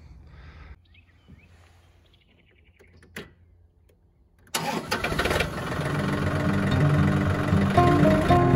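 After a quiet stretch with a faint click, a small hydrostatic tractor's engine cranks and catches, then settles into a steady, rumbling idle nearby.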